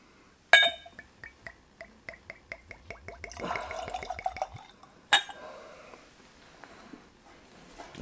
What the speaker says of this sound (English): let's go ahead and pour this thing out